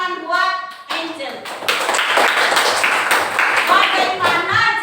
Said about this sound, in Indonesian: Tepuk tangan buat Angel.